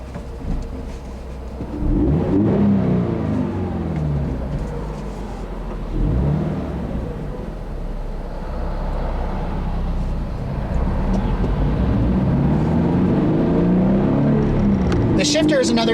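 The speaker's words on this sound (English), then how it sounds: "The tires, there's a lot of tire drum. The engine's not terribly loud. It has that traditional boxer note." A 2015 Subaru BRZ heard from inside the cabin: steady road roar and tire drum with the boxer engine note repeatedly rising and falling in revving sweeps, fairly loud throughout.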